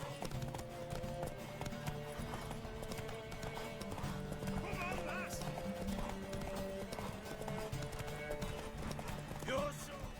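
A horse gallops with rhythmic hoofbeats and neighs in The Witcher 3, the steady clip-clop running under in-game music and spoken dialogue.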